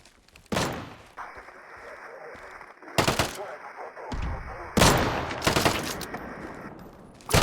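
Shotgun blasts ring out in the survival shooter Deadside, loud sharp bursts arriving in several clusters of rapid shots across a few seconds, with a voice talking in between.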